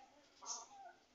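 A rooster, either the red one or the Aseel, lets out a brief, faint squawk mid-fight, a short burst rising over quiet background.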